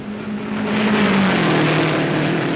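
A race car engine roars at the 1957 Indianapolis 500, a loud sustained drone whose pitch slowly falls as the car pulls away, with no voices over it.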